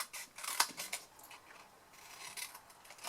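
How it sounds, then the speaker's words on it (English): Scissors snipping through the bottom sections of a homemade Santa's trousers craft, a few quick, close, quiet cuts bunched together early, then faint rustling of the material. "cut up the bottom sections"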